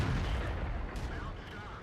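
A tank cannon fires at a Churchill tank in World of Tanks from a KV-1S, a heavy low boom swelling and rumbling through the whole short stretch, loud and close.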